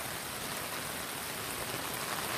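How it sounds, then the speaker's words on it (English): Torrential downpour splashing hard onto surfaces, a dense steady hiss of heavy rain, close and unbroken, with no voices. "I've never seen so much rain before."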